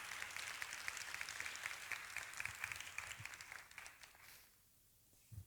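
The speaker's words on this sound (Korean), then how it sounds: "네, 큰 박수 부탁드립니다." Conference audience at the 2022 Global Entrepreneurship Week Korea event claps in sustained applause that tapers off toward the end, heard alone with no talk.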